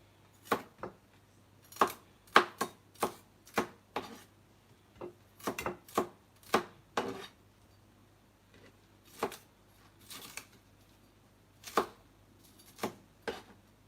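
A knife chops vegetables such as carrots on a cutting board, a series of sharp, close knocks in irregular clusters with short pauses between them.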